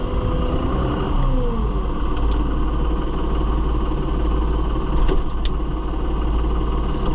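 A New Holland TN75DA tractor engine runs steadily at about 1,000 RPM, a loud continuous diesel rumble with a constant drone and no talk over it.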